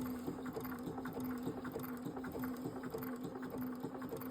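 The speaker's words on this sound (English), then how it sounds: "We're going to go ahead and begin stitching in reverse here for a centimeter." A sewing machine stitching in reverse on paraglider lines, running a quiet, steady rapid stitching rhythm without pause and with no talking.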